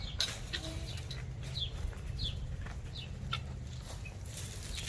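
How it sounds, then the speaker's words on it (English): Hens at a school coop cluck and chirp in scattered bursts as food is brought to them, over a steady low outdoor rumble. "These chickens see this food coming."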